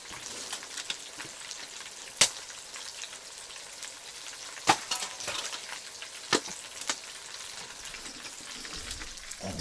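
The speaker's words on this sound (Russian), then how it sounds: "Здесь у нас процесс жарки." Ryapushka fish fry in a pan outdoors in deep Yakutian cold, a dense, steady crackling sizzle broken by occasional louder pops and spatters, close and without talk.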